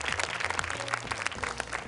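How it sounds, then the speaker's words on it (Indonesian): Audience applause for a contestant, Nazila Manado, at a televised Indonesian Qur'an recitation competition, a dense steady wash of many hands clapping at moderate level with no talk. "Boleh tepuk tangan sekali lagi untuk Nazila Manado."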